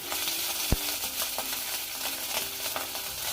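A veg sheek kebab frying in a pan with too little oil gives off a steady, close sizzle, with occasional stirring scrapes and one sharp knock of the utensil against the pan.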